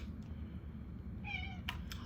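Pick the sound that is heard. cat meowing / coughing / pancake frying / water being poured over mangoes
cat meowing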